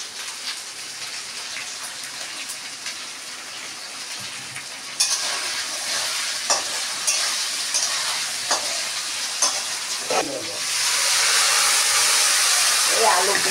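Potato and papaya cooking in a pan for Bengali shukto with salt added, a soft steady sizzle with occasional stirring clinks that jumps to a louder hissing bubble as water is poured in.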